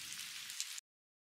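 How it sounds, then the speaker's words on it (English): Rain falls steadily as a background recording, a dense, even hiss that stops abruptly partway through. "the busier, more complex sound of the rain"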